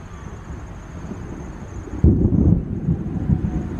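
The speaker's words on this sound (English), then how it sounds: "We have a thunderstorm." A thunderstorm passing over Massapequa brings a low rumble of thunder that swells suddenly midway and rolls on, heard outdoors amid wind noise buffeting the microphone.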